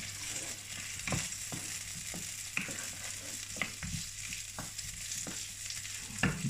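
Onions frying in a pan for Turkish-style chicken skewers with tomato bulgur, a steady soft sizzle with occasional scraping stir clicks, close and fairly quiet, with no voices.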